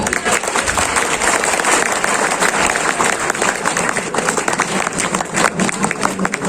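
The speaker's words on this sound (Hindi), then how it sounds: "सो प्लीज वेलकम जोरदार तालियां।" A loud, dense round of applause from an audience welcoming speakers to the stage at a company anniversary event in a hotel in Pilibhit, continuous clapping close by with crowd noise mixed in.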